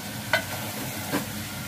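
Cauliflower and other vegetables being stir-fried desi style in a pan, fenugreek to follow: a soft, steady frying hiss with two short stirring clinks, heard alone.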